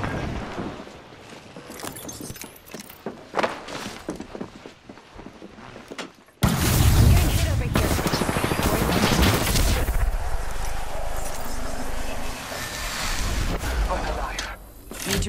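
Video game gunfire bursts out in sustained rapid volleys after a quieter stretch of scattered shots and footsteps, loud and dense with a voice talking over part of it.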